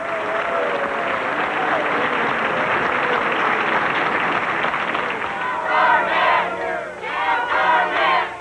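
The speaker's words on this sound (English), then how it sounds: "he did encounter very scattered booing as he addressed the conference of state legislators in Cincinnati" A large crowd at a conference of state legislators in Cincinnati roars continuously, with swelling shouts and jeers that rise in bursts toward the end, loud and dense throughout.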